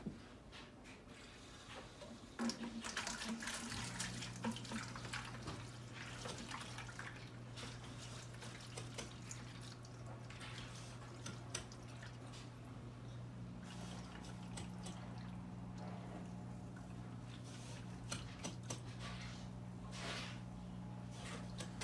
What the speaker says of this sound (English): I actually vacuum my sand bed, or what I can get to of it.